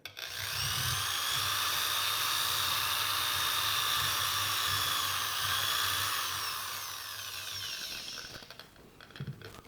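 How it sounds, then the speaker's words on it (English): A power drill runs steadily at high speed, a bright whining drone boring holes into a squash, then slows and stops near the end. "I'm drilling holes. Yes, drilling holes right into the squash."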